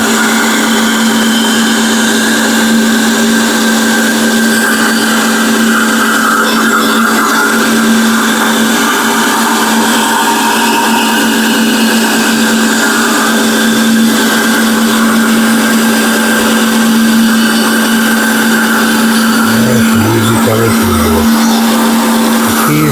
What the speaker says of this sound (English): Have your bandsaw set up well with a good sharp blade in it.